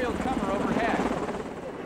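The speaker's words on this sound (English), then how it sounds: "we've got a helicopter doing aerial cover overhead." A police helicopter flying aerial cover overhead during a crop-spraying operation in a Colombian field, its steady rotor thrum continuous and fairly close, with a voice talking over it.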